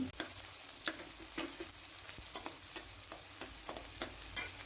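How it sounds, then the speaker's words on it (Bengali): Chopped onions and green chillies fry in oil in a pan for an okra and puti fish curry, giving a steady, soft sizzle with occasional clicks from stirring and no talking. "আমি আড়াই মিনিটের মতো পেঁয়াজ ভেজে নিয়েছি"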